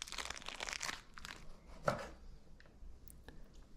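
Knife chopping open a Hormel pepperoni stick in a kitchen, a few quiet crinkly cuts and crunches with one sharper snap in the middle, close and faint, with no talk.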